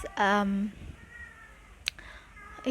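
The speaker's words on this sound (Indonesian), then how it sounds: "ada kucing" A cat gives one short, clear meow close by, followed by quiet room tone and a faint click.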